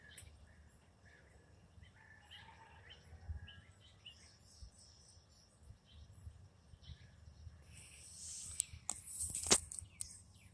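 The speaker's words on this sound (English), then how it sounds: "Trying to get these birds on tape." Small birds near a backyard feeder give faint, scattered chirps and tweets, with a brief, louder burst of high twittering toward the end over quiet outdoor background noise.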